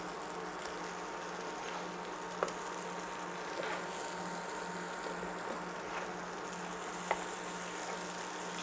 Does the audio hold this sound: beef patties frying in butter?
yes